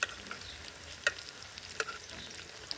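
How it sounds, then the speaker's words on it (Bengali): Soft, steady sizzle of egg pieces frying in a pan, broken by two sharp crackling pops. "এবার উল্টা ওই পিঠও ভেজে নিই"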